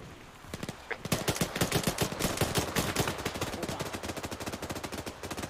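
Rapid automatic gunfire in the military shooter game Arma 3 rattles in fast sustained bursts, loud and rhythmic after a brief quiet start, with no clear talking over it.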